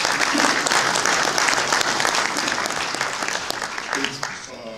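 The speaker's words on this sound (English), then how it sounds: "Y'all get him a round of applause." Audience applause fills the room at a football team introduction, a dense steady wash of many clapping hands, loud and sustained throughout, fading slightly near the end.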